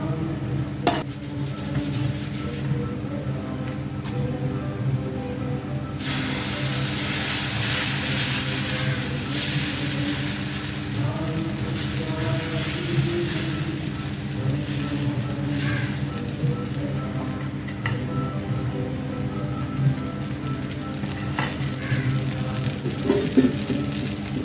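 Egg and vegetable uttapam batter with onion and green chilli frying on a hot pan, a steady close sizzle that swells after a few seconds and runs on with occasional scraping and stirring, with music playing underneath.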